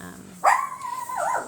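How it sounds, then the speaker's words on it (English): A single dog gives one loud, close bark-like yelp that trails into a drawn-out whine, heard alone indoors. "I'm so sorry about the dog."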